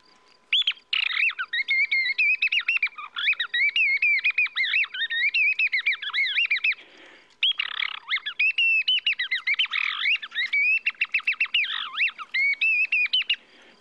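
A person whistles a lively imitation of thrush song to lure thrushes during a glue-stick hunt in Provence: bright, warbling phrases in quick succession, with one short pause midway.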